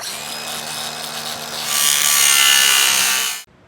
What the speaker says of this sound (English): So I am going to use a grinder. You can use a Dremel tool to get this cut out, but I'll go ahead and cut the sides.